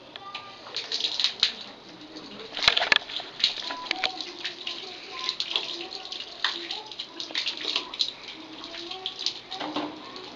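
Tap water running steadily at home, a continuous splashing hiss with a faint voice and small clatters mixed in, fairly quiet and close.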